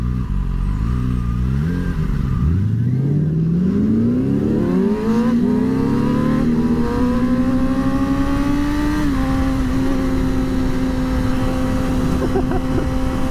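A cammed Chevrolet Corvette Z06 with open headers accelerates away, its loud engine note climbing steadily through the gears with one clear shift partway, staying strong as it pulls off.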